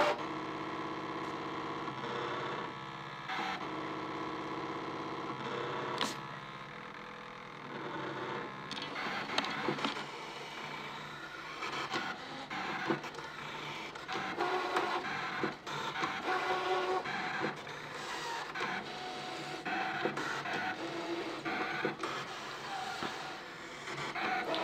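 A Brother ScanNCut DX SDX230Di electronic cutting machine cutting out a basket pattern gives a quiet, continuous mechanical whir with intermittent motor steps and clicks, close by and alone.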